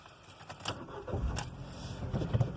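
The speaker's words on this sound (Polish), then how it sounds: "Jeszcze Wam pokażę, o, jak się zapali. Stacyjka." Keys jangle in the ignition of a Ford Fiesta VI 1.3, then the engine cranks and catches into a low idle rumble, heard from inside the car.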